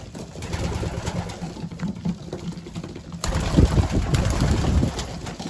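Racing pigeons inside their loft, soft cooing and rustling from several birds close by, with a faint mechanical hum in the background and a louder burst of activity partway through.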